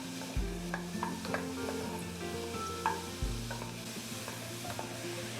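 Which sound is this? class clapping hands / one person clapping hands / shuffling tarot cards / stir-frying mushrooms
stir-frying mushrooms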